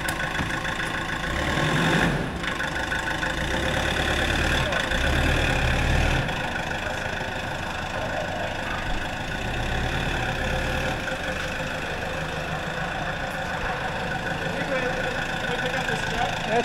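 A big red Taylor forklift idles in a steady, low, continuous rumble that runs throughout, with people talking over it at times.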